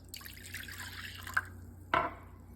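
A tumbler of water is poured into dry ginger powder for a panagam summer drink, giving a soft splashing pour followed by a couple of separate drips, fairly faint and close, with no talking.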